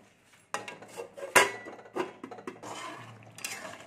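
Metal pan handling and a clanking lid settling onto a pan of potato-brinjal curry with tomato, a few sharp clinks and scrapes close by with quiet gaps between.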